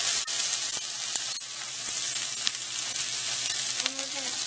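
Tomatoes sizzle steadily in a hot pan with green onion, a close, continuous hiss with faint clicks of stirring and no talk.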